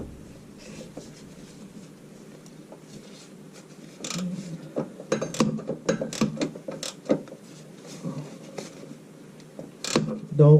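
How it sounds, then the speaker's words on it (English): A flex-head ratchet clicks away on the oil pan bolts of a 2010-2014 Dodge Charger Pursuit during a Moroso oil pan install, with quick irregular bursts of close metallic ratcheting after a quiet start. "having this flex head ratchet helps because it flexes down, obviously, but and you definitely want it ratcheting"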